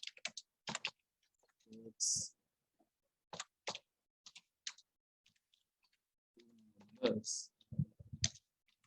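Code is typed on a computer keyboard in scattered bursts of light clicks, with pauses between them and a person talking at intervals.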